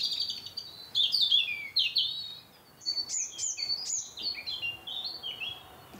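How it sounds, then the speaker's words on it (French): A robin and a chaffinch sing in turn, bright trilling and twittering phrases repeating over about six seconds, clear and moderately close in an open natural setting with no voices. "Donc là, on entend un rouge-gorge. Là-bas, vous avez un pinson des arbres."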